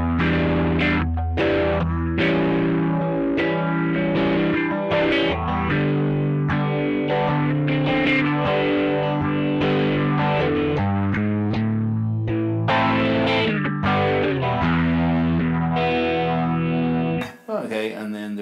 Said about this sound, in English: Then you get into the vintage phaser, which I'm presuming is supposed to be like an MXR dubby.